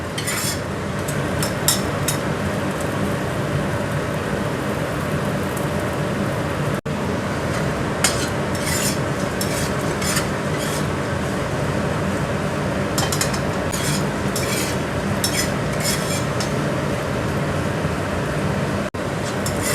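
Shrimp frying in a hot pan, a steady loud sizzle with bursts of crackling and spatula scraping against the pan, continuous and close with no talk.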